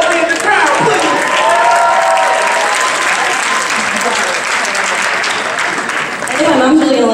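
A crowd at a live campus pageant show claps and cheers loudly and continuously, a dense burst of applause that dips slightly midway, then surges again at the end.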